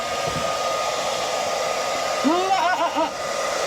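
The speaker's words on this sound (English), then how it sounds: "The hair dryer is blowing warm air in." A hair dryer blows warm air into a tote holding newborn Nigerian goat kids with a steady, loud whoosh throughout, with a few brief high-pitched kid calls rising over it near the end.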